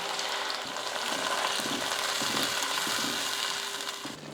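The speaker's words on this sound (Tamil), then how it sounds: "தக்காளி போட்டு நல்லா கொதிக்க ஆரம்பிச்சிருச்சு பாருங்கள்" Tomatoes for a tomato kulambu sizzle and bubble steadily in a pan at close range, a dense frying hiss with faint stirring scrapes underneath.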